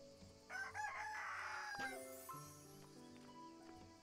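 A rooster in the video game Everdream Valley crows once, a stretched, slightly synthetic cock-a-doodle-doo over a soft, steady background hum.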